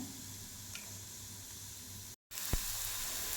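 Onions sizzling and caramelizing in a pan, a continuous frying hiss with a brief dropout partway through and a sharp knock shortly after.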